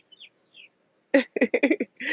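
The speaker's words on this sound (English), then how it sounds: "The birds saying they feel me." A couple of faint, thin bird chirps sound early on, followed by a run of louder, closer voiced bursts.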